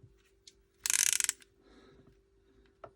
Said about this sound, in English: So if you use it as a ratchet, the handle spins also.